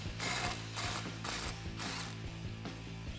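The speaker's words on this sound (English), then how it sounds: "So now I'm going to loosen up the clamp with a 15mm socket." A ratchet turning a 15mm socket to loosen the clamp on a Rough Country steering stabilizer on a Jeep Wrangler JK, heard as a close series of bright ratcheting bursts, about five even strokes in quick succession, with no talking.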